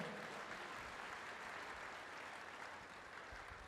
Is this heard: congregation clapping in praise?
yes